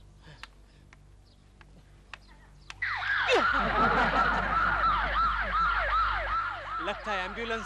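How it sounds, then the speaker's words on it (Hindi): After a few quiet seconds, an ambulance siren bursts in close and loud, wailing up and down repeatedly over a low engine rumble. "लगता है एम्बुलेंस थी।"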